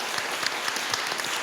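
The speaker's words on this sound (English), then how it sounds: "So please give another big round of applause for our amazing three speakers." A seminar audience at an art talk applauds three speakers, a steady, dense wash of clapping with no break and no voices over it for the whole moment.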